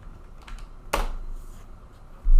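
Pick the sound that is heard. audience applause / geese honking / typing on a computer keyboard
typing on a computer keyboard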